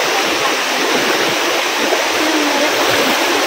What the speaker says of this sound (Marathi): हा आता आम्ही चाललो पाण्यातून.